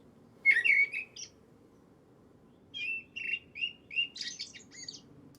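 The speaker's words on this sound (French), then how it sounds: "ça c'est joli, on entend la mésange noire derrière" A coal tit sings in quiet woodland, captured with a parabolic microphone: a short burst of bright chirps, a pause, then a longer run of thin, clear notes, soft and distant.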